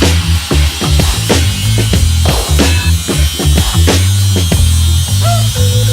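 A motorcycle frame, a Suzuki SR250, is cut with a power tool, giving a loud, close, rough grinding buzz in repeated bursts that shift in pitch. Nobody speaks.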